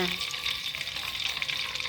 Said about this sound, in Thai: อันนี้วิธีทอดปลาไม่ให้ติดกระทะนะจ๊ะ